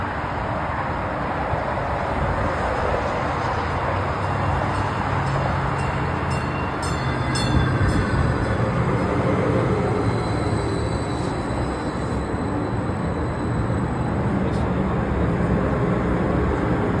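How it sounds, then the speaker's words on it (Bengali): A commuter train on the E Line to Union Station pulls in, its broad steady rumble and rail noise loud and close throughout, with a few faint high squeals and no talk. "ওই যে আমাদের ট্রেন চলে এসেছে"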